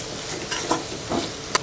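Spices frying with softened onion and tomato in a pan, a steady low sizzle with faint stirring scrapes, fairly quiet throughout.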